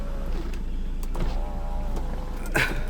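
A 2018 Mahindra XUV500 W9's sunroof motor runs with a smooth electric whir, its pitch shifting slightly, ending in a brief louder clunk near the end; heard from inside the car with no talking.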